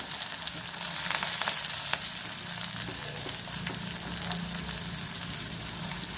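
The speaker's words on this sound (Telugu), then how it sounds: "ఉల్లిపాయ ముక్కలు వేసేస్తున్నాను." Chopped onion and green chili frying in hot oil with tempering spices for a flat bean, potato and tomato curry, a loud, continuous, close sizzle with faint stirring scrapes, no voices.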